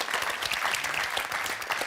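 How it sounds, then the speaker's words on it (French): A studio audience on a French television game show claps steadily, a dense and even burst of applause at moderate volume with no voice over it. "On applaudit quand même Jocelyne et Roxane qui nous quittent."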